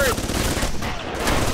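Mounted turret gunfire in the game Alpha Protocol, a loud dense burst of rapid automatic shots filling the whole moment, close and continuous.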